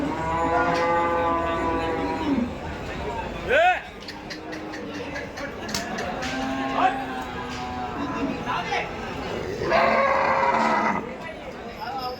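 A cow moos several times nearby at a cattle market in Dhule, India, while people talk over it in the background.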